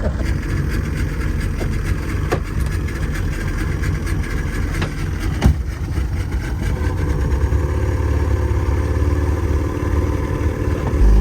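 A boat motor heading out to sea off the Isle of Skye drones steadily and loudly from start to finish, a constant low rumble with a slight rise in intensity near the end.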